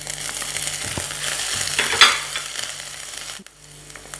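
Garlic and ginger sizzle and crackle in hot oil for a tadka, a dense close frying hiss with stirring scrapes, and a brief splutter as fresh ginger hits the pan.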